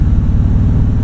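A 2025 Toyota Tundra TRD Pro engine accelerates, heard from inside the cabin as a loud, deep, steady rumble with a throbbing low pulse over one brief moment.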